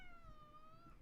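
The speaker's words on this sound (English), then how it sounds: "Look at this cat." A pet cat gives a single drawn-out meow with a gently falling pitch, soft and close, with no talking over it.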